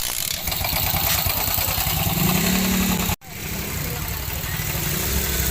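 A motorcycle engine runs steadily and close by, a continuous low drone through the whole stretch that cuts out briefly in the middle and then resumes, with faint voices in the background.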